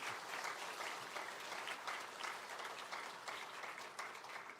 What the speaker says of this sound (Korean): 큰 감사의 박수 하겠습니다.